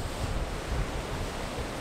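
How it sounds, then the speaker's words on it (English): Ocean surf rolling in at Sennen Cove on a wet, windy day, a steady broadband roar of waves with wind buffeting the microphone, no voices. "the waves actually aren't that bad"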